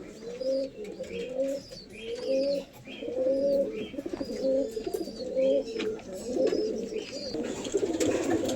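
Andhra pigeons coo in repeated rhythmic phrases, loud and near, several birds overlapping in a dense throaty chorus with a brief dip midway and a few higher chirps on top.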